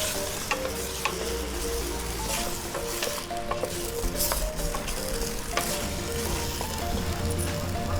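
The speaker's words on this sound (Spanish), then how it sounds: "Luego de sofreír la cebolla y el ajo, proseguimos a colocar las papas. Revolvemos." Potatoes stirred into sautéed onion and garlic in a pan for Mapuche charquicán, with a constant loud sizzle and scattered scraping strokes of a utensil.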